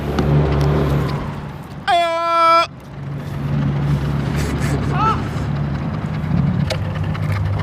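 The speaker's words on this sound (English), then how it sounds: "it's pretty much all just loud traffic. Lots and lots of traffic. Super loud." Loud street traffic rumbles steadily nearby, with passing vehicles and a brief, loud, harmonic horn blast early on, plus a few faint chirps over the continuous road noise.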